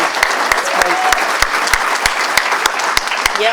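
Sustained, dense audience applause fills the room at an essay contest award announcement, a standing ovation with steady clapping and occasional sharper claps throughout.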